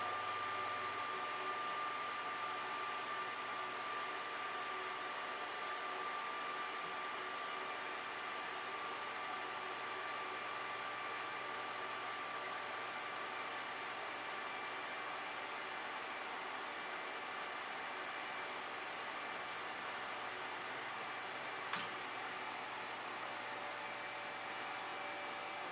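A quiet, steady whirring hum of an electric fan runs continuously, with one faint click near the end.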